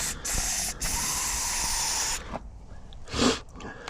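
WD lubricant sprayed into a lock cylinder on a store cupboard door: a long, loud aerosol hiss with a brief break, then two shorter bursts after a pause, close to the microphone.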